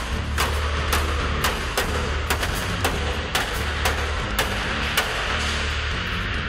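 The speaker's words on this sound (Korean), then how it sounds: "망치와 기계를 이용해 1시간 만에 겨우 철판을 분리해냅니다." A hammer strikes the welded steel plate of a used bus being converted into a camper, giving a steady run of metallic blows about every half second. Each blow is loud and close over constant loud machine noise.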